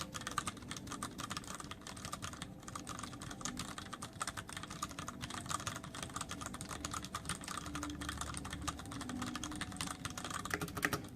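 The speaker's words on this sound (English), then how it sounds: "Sure does make a very decent typer" Continuous typing on a Cooler Master QuickFire Rapid keyboard with Cherry MX Brown switches, a steady stream of fairly soft, close keystrokes with background noise underneath and no talking.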